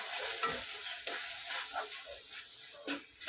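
Onion-garlic masala stirred in a pan for misal, with quiet intermittent sizzling and several soft scraping stirs at an uneven pace, heard close but fairly low in level.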